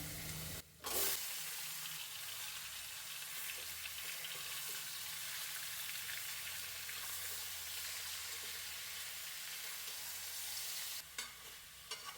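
A steady, close sizzle of chicken frying in a hot pan with chili and garlic, with a sharp clatter near the start and another just before the end.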